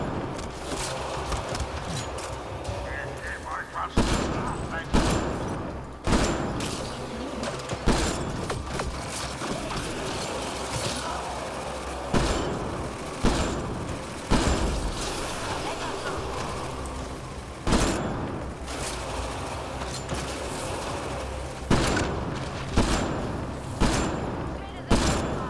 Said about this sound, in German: Schießen wir halt erstmal das da weg